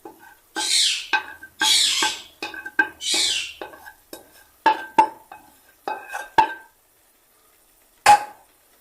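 Beef masala being stirred in a pan, with a series of scraping, clattering spoon strokes in bursts over several seconds, then a pause and one last sharp knock.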